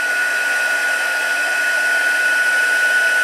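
A handheld heat embossing tool blows hot air over a large stationery gift box, a steady close whirring fan drone with a sustained high whine, uninterrupted and without talk.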